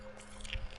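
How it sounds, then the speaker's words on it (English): Foam decoration crunching as it is eaten in the video game What Remains of Edith Finch, a brief soft biting squish and crunch, close and quiet. "You can hear the foam crunching."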